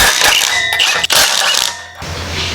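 A ratchet wrench loosens the 15 mm exhaust bolts on a 2.9L Alfa Romeo Stelvio QV, giving a loud, close, continuous whirring rattle with a short break, then a lower steady drone.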